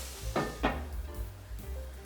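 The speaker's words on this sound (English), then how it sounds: "I'm just gonna go ahead and cover this." A lid goes onto a pan of sizzling steak and onions: two quick close clanks of metal, followed by a soft, steady sizzle that continues quietly underneath.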